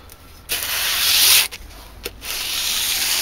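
A belt grinder running a worn 120-grit 4-inch belt gives a loud, steady abrasive hiss. The sanding passes in near bursts with short breaks between them and no voices.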